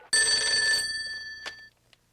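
A telephone bell rings loudly in one sustained burst of bright, buzzing tone that fades out, followed by a couple of small clicks in a quiet room.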